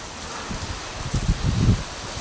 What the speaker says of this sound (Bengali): খুব জোরে এখানে বৃষ্টি শুরু হয়ে গেল, হেভিলি রেইনিং